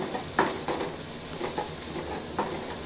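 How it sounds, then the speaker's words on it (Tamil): Ginger and garlic sautéing in a pan, a soft continuous sizzle broken by a few spatula scrapes and taps at irregular intervals. "இஞ்சி பூண்டு போட்டு நல்லா வதக்கி விட்டுக்கலாம்"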